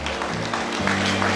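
An audience at an iftar gathering breaks into applause, a dense crackle of many hands clapping over a steady low hum.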